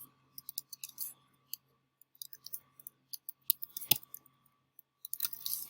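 Typing on a computer keyboard, sparse light clicks and short tapping runs, quiet and close, with a denser burst of keystrokes toward the end.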